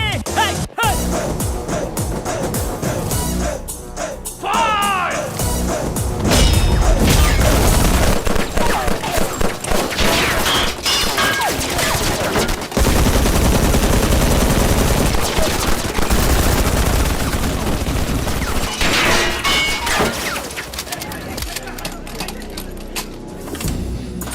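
Rapid bursts of automatic weapon fire rattle loudly and repeatedly with sharp cracks and booms, dense volleys broken by short pauses, heard as part of a Hindi comedy drama scene.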